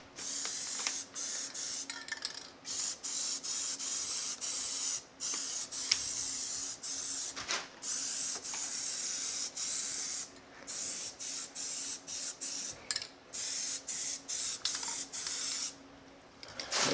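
Plasti Dip spray can coating a car wheel laid flat, a close, steady rushing hiss in long bursts broken by short pauses, with some sputtering as the can begins to spit.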